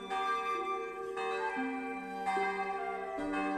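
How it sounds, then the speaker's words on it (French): Angelus church bells ring out from a village church, a sequence of sustained, overlapping metallic tones with long resonant decay, struck repeatedly and filling the scene steadily without any voices. "Le soir tombe et les cloches se font entendre. C'est l'Angélus qui sonne à l'église du village"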